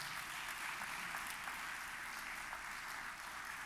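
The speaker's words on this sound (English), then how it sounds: "Let's give all of them a big round of applause." An audience claps in a round of applause in a synagogue sanctuary during a Yom Kippur service, a steady wash of many hands, fairly distant and sustained throughout.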